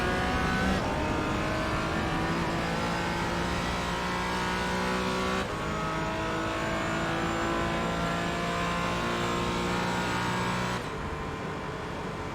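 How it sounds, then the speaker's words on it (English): A GT4 race car's engine in the iRacing sim at the Nürburgring roars at high revs, a dense sustained whine holding steady through gear changes near the finish line, loud and close with no talk. "I'm just going to let you guys listen to his engine noise for the next 30 seconds as he comes across the line to finish"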